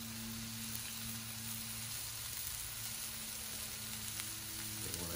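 Burger patties sizzle in butter on a hot pan, a steady loud frying hiss with faint crackles, alone with no talking.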